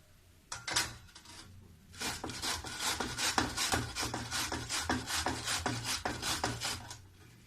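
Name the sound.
grating cauliflower on a coarse grater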